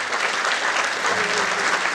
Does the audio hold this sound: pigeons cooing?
no